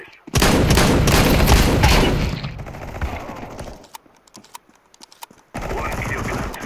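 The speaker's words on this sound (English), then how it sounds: "He's shooting at me," Rapid gunfire in the video game Counter Strike 2, loud dense bursts of automatic shots up close, thinning to scattered pops and quiet gaps before another heavy burst of shooting resumes.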